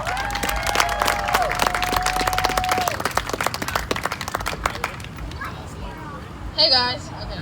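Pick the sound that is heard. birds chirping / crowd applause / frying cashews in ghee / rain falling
crowd applause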